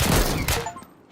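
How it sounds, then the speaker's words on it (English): Pistol fire in the Deadside video game, a short loud crack of shots that quickly fades into a dying echo. "pistols are so much fun in this game"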